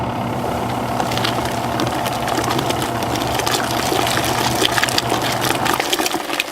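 Twin tub washing machine filling with water, a steady rushing pour with a low hum underneath, continuous and close throughout.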